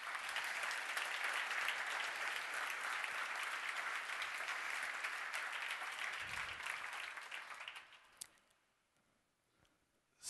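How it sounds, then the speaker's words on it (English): Applause for Casey from a church audience after a prayer, dense clapping that holds steady for several seconds, then thins and fades out to a few scattered claps and near quiet. "Give her a round of applause."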